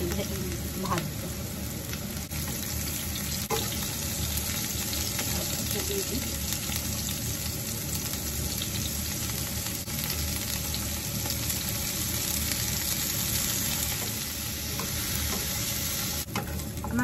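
Fish pieces for mustard hilsa lightly frying in a pan give a steady, continuous sizzle with faint stirring scrapes throughout, close and even in level.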